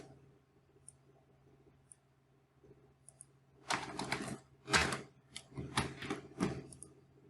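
Computer mouse clicks while drawing in AutoCAD: a few faint, sparse ticks at first, then a cluster of louder, quick clicks in irregular bursts near the microphone.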